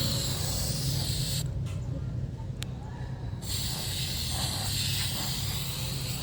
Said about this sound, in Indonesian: pilok seluruh permukaan kaleng.